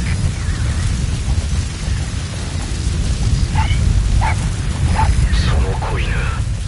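In the video game Metal Gear Solid V, a puppy gives a handful of short, high yips in the middle distance over a steady rain-like background rumble, with a voice speaking around them.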